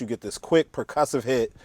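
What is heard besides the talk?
No everyday noises stand out.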